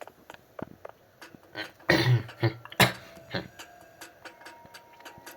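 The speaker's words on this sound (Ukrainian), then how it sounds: "отаку я кашлю" A few sharp, raspy coughs from someone close by, with quiet ticking and small noises between them and no talking.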